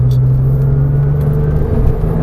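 A Porsche 911 race car engine roars steadily at close range on a circuit, its low drone holding strong and rising slightly toward the end as it accelerates.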